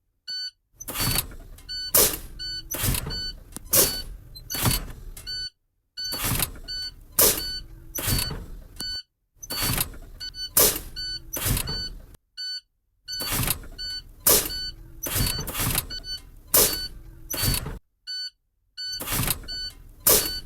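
A manual tractor-trailer's air brake system releases pressure during a parking brake pop-out check, sharp hissing bursts coming in quick rhythmic groups separated by brief pauses, close and alone.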